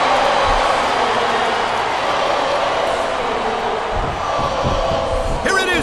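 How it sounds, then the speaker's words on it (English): A large wrestling video game crowd in WWE SmackDown vs. Raw 2007 roars and chants continuously, a dense wash of many voices with a few louder bursts toward the end. "Wow, listen to that chant, Taz"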